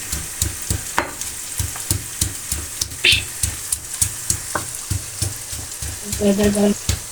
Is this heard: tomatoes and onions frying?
yes